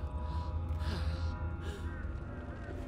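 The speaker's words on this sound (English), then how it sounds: "Why is this person breathing so weird?" A character in the video game Dishonored breathing in strange, raspy gasps and sighs, a few uneven breaths over low background game ambience, no talking.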